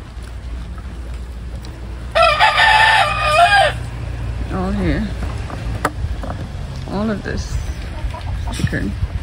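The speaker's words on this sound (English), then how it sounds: "there's a lot more chicken in there too" Farmyard chickens cluck around a loud, close rooster crow, with scattered squawks and background voices.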